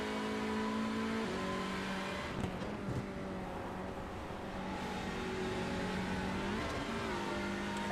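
A race car in the Alpha Touring Challenge runs on track at Lime Rock Park. Its engine holds a steady, moderately distant drone, with pitch dropping and rising through gear changes and throttle lifts.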